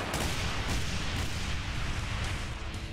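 Explosions and heavy gunfire from the first-person shooter Brutal Doom form a dense, continuous roar of blasts and booms that fills the whole stretch with no pause and no voice.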